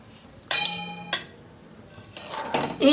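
A spoon scrapes and knocks against a metal wok while a date palm jaggery mixture is stirred, giving a few sharp metallic clanks and rings separated by quieter pauses, close up.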